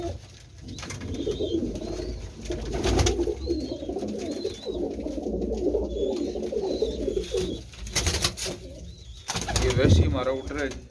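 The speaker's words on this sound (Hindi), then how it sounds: "ये वो कबूतर है, ये टेडी कबूतर है" Teddy pigeons coo in repeated low rolling phrases close by, broken by several loud bursts of wing flapping, with higher chirps in the background.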